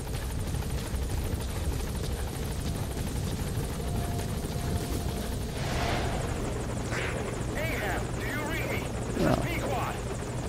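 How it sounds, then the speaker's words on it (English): A support helicopter in Metal Gear Solid 5: The Phantom Pain hovers with a constant rotor thrum, and a voice speaks over it partway through. "The support helicopter has arrived."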